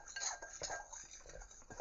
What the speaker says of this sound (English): Grab a fork. We're going to give this a stir around.